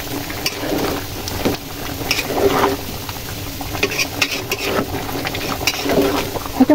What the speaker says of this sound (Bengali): এখন আমি এটাকে সুন্দর করে নাড়িয়ে দেবো।